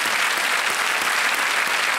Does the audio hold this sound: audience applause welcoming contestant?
yes